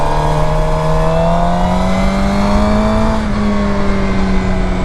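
Cars drone past on a road, heard from a moving motorcycle, with a steady loud engine hum whose pitch slowly rises and falls against constant wind rush and no voices.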